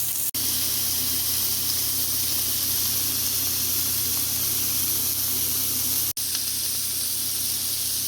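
Taco meat sears in a hot pan with a loud, dense, unbroken sizzle and hiss, close up, cut by two brief dropouts.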